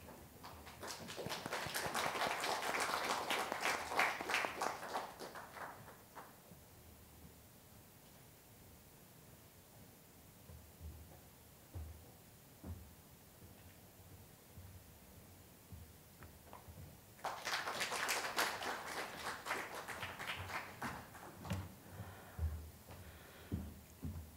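Two bursts of applause from an audience at the Daesan Literary Awards ceremony, one at the start and another near the end, with a quieter stretch of room noise between them.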